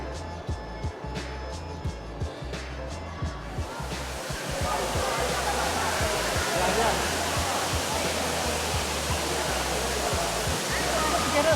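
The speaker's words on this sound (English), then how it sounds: "Artificial waterfall, but just check that thing out" An artificial indoor waterfall in Singapore's Cloud Forest Dome, a constant heavy roaring wash that swells in after a few seconds of quieter footsteps and ambience and then holds steady and loud.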